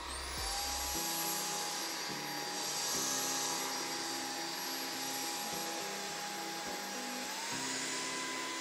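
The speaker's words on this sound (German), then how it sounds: "Er hat die Saugkraft erhöht, die Saugkraft jetzt von alleine." Jimmy H9 Pro cordless vacuum cleaner on carpet, a loud steady high-pitched whine and rushing airflow with a rising pitch as suction increases, alone without speech.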